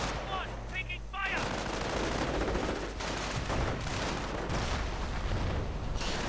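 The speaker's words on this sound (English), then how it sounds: "Rifleman though getting gunned down. Grenadiers, MGs, and even the Knight's Cross firing away." Continuous dense battlefield gunfire from rifles and machine guns in a World War II real-time strategy game, steady overlapping shots and bursts throughout, with brief electronic tones near the start.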